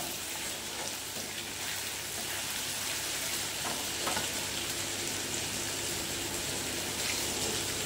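Garlic and green chilies fry in a pan with a steady, close hiss and crackle, an even sizzle that carries on throughout with no speech.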